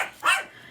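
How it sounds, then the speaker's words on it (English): A dog gives a single sharp bark at another dog, fairly close and brief, with no talk over it. "And the dogs are barking at the other dog."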